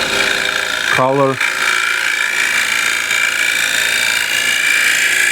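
A standard scraper cuts the inside of a wooden bowl on a lathe, giving a steady hum and scraping hiss throughout, broken by a brief rattling chatter near the start, with a single spoken word.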